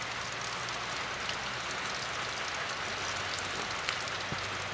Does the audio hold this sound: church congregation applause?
no